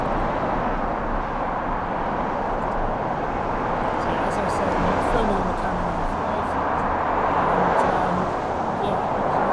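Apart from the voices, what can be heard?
road traffic heard through a shotgun microphone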